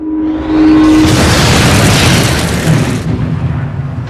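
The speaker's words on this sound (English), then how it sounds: "And just at that moment, there was the most unholy bang." A torpedo strikes the WW2 aircraft carrier Courageous in a tremendous, loud explosion: a sudden deep roaring blast that sustains for a few seconds before cutting off into a lower rumbling tail.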